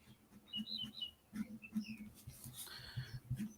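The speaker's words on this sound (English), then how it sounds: "The birds are singing joyfully today." Birds sing outdoors, giving faint scattered high chirps and tweets over a quiet background with soft low tapping and patter.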